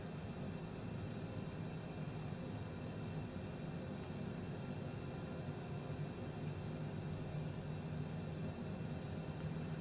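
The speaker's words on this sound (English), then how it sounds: "from outside we can hear one engine starting to spool up" A steady, dense roar with a low hum from an airliner jet engine spooling up at start on a Seattle-to-Portland flight. The sound stays even and unbroken throughout, with no voices.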